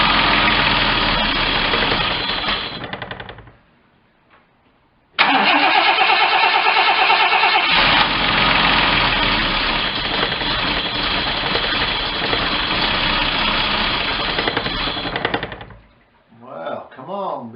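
An MGC GT engine runs roughly and cuts out, then restarts with a burst and idles unevenly before choking and dying near the end, when a brief voice is heard.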